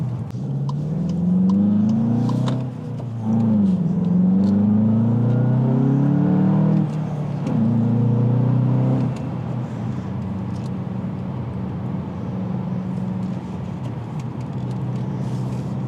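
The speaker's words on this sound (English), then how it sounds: "right now I have it on sport exhaust sounds, so it has like exhaust sounds coming into the vehicle" Simulated sport exhaust note piped into the cabin of a 2025 Volkswagen Jetta GLI, loud and close, with rising and falling engine-like revs for about nine seconds before settling into a steadier drone.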